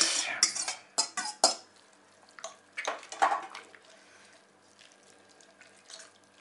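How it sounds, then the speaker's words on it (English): A fork scrapes and clinks through a wet baked bean mix in a bowl, giving irregular close taps and sloppy stirring sounds with short pauses between strokes. "As you stir it through with the fork"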